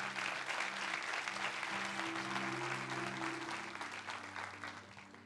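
A church congregation applauds steadily, the clapping dense and sustained and slowly fading toward the end, with a low murmur of voices beneath.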